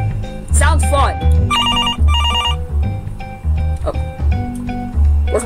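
A telephone rings in a Five Nights at Freddy's parody video game, two bursts of a rapid electronic trill over a looping game music track with a voice nearby.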